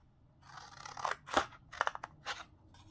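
Scissors snip in a quick series of sharp, close cuts, about five or six crisp strokes with brief gaps, trimming a paper craft tree.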